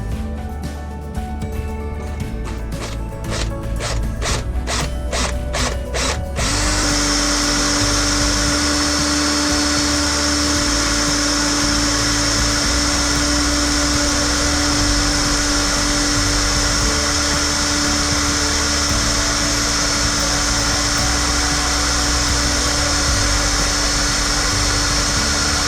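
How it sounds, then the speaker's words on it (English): A power drill fitted with a 4mm pilot bit runs at a loud, steady whine through a brass Harley-Davidson pedal. Rapid chattering comes first, then a long, sustained high drone. "So we're going to use a 4mm pilot drill first."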